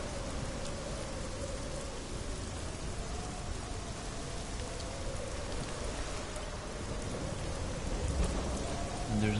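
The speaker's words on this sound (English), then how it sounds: "And there's a storm on the way." Steady rain of an approaching storm in Hellblade: Senua's Sacrifice pours continuously at moderate level, a dense hiss of drops with a faint low rumble underneath and no voices.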